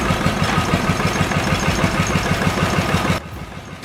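The two-cylinder, 12-horsepower engine of a Bulldog AHL-12 tractor runs with a loud, rapid, even chugging pulse. Near the end the running cuts off abruptly into quiet.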